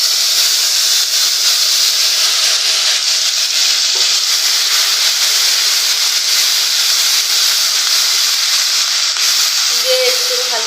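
Onion, chili and cumin pastes hit hot oil and sizzle in a steady, loud, continuous hiss with no breaks, close up, throughout.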